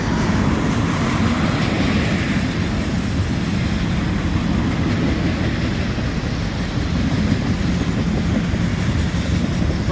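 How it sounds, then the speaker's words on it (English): Two freight trains meeting on the Dundas Subdivision near London, Ontario, in February, a steady loud rumble of rolling cars with faint clickety-clack continuing unbroken throughout, no voices. "We got train meet between two trains."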